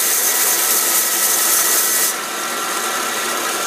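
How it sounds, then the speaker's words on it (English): A belt sander runs against wood pieces for a candle holder, giving a loud, hissing abrasive rasp over a motor whir that softens abruptly about halfway through as contact eases. "So I'll just use my belt sander."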